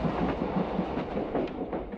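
A train ride in a film: a muffled, steady rumble of a moving train with faint rhythmic clatter of wheels on track, continuous and without voices.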